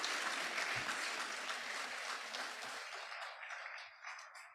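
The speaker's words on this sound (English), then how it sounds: "Let's hear another round of applause for our esteemed keynote speaker." Conference audience applauds a keynote speaker at a directors' conference opening session, a dense wash of clapping that holds steady and then thins out and fades over a few seconds.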